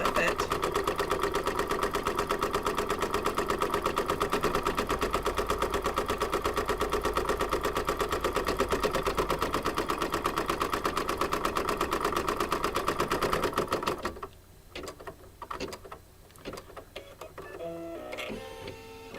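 An embroidery machine tacks felt down to stabilizer for an apple coaster, giving a loud, close, rapid and steady mechanical stitching rattle. It stops after about fourteen seconds and is followed by faint scattered clicks.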